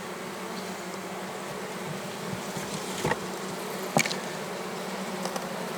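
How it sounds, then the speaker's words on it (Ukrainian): A dense, steady buzzing of many bees flying around a hive, with a few individual bees zipping close past, outdoors and with no voices. "Бджолки літають"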